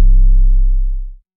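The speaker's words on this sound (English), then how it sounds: "That is what our 808 sounds like right now." A single 808 bass hit built in the Vital synth: a click at the start, then a deep, pure sub-bass boom that holds steady and fades out after about a second, alone.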